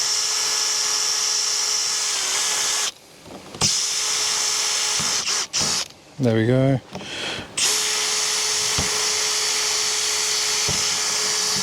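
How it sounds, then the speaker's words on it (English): A cordless power drill with a 2 mm bit bores pilot holes into a Bushman fridge door on a Ram 3500 canopy, whining steadily in long bursts with short pauses, close and loud, and someone speaks briefly between runs. "It's always scary drilling into your fridge."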